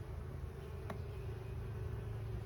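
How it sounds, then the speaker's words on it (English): A low, steady buzzing of honey bees close by, humming continuously and faintly without any talking, as an overwintered nucleus colony is moved into a full-size hive. "These bees are gentle."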